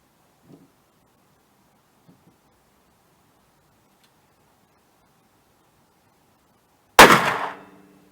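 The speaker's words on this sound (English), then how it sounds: "you put 3 shots on target, 7 yards" A .357 Magnum hard cast load of 180 grains, with 15 grains of Lil'gun powder, fires as one loud, sharp report with a short decaying tail near the end, after several seconds of near silence and faint rustles.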